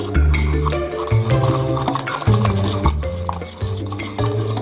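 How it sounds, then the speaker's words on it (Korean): Plaster powder is mixed with a liquid in a container, giving a loud, close, continuous scraping and clinking of a stirring utensil in steady uneven strokes, with no one talking. "석고 가루에 섞어둔 액체 재료를 넣어주도록 할게요. 그리고 나서 잘 섞어주세요"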